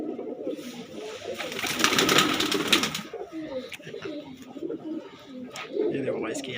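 Andhra breed pigeons coo repeatedly at close range, soft throaty rolling calls over a short burst of rustling or flapping, with someone talking throughout.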